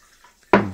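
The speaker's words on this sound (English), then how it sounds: "I'm going to add in the remainder, or nearly the remainder of our water, to bring us up to at least 1 gallon or 4 liters" Water poured into a fermenter while brewing a pineapple orange melomel: a sudden, loud splashing rush that begins abruptly and gradually fades away.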